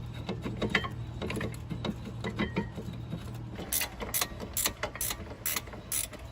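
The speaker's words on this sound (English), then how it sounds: "She's gonna get the old elbow torque wrench. Click." Ratcheting clicks from an elbow-style torque wrench tightening an emergency brake cable bolt on a C4 Corvette, a series of sharp mechanical clicks with rustling tool handling, close and moderately loud.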